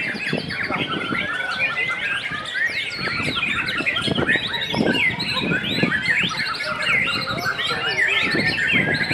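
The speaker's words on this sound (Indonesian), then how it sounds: "Silakan nikmati kicauan burung." Rich, varied birdsong of a white-rumped shama with rapid whistled phrases and chirps, continuous and fairly close, layered over faint background calls.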